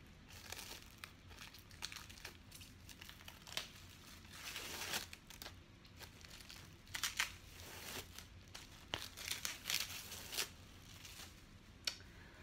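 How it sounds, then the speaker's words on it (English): Excess tape and saran-style plastic wrap being peeled and crinkled off a silver age comic book, close, irregular crackling bursts and tearing rustles across several seconds, fairly quiet. "Let me remove all this excess tape. You know me, keep the tape far away from the book. It's some kind of saran wrap."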